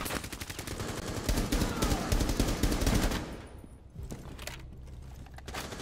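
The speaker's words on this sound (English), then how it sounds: "Oh, I'm getting shot at. I'm getting shot at." Video game gunfire in Rainbow Six Siege: dense, rapid automatic bursts fire continuously for about three seconds, then fade into quieter, scattered shots and background rumble.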